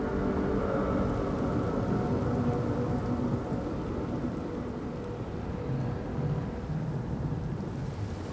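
Steady heavy rain and a thunderstorm in the video game Senua's Saga: Hellblade II, a dense continuous wash of rainfall with low rolling thunder rumbling throughout, loud and unbroken.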